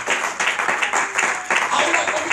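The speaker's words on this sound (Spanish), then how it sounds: "¿Cuánto dan ese aplauso al Señor de gloria?" Church congregation clapping during a Spanish-language service, rhythmic bursts of applause with voices mixed in throughout.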